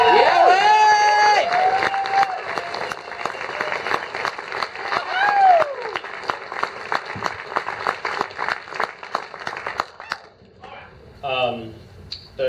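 An audience at the Rio Theatre in Vancouver, at a VIFF film screening, bursts into dense, sustained applause and whistles as a filmmaker is welcomed onto the stage, then the clapping thins out and fades near the end.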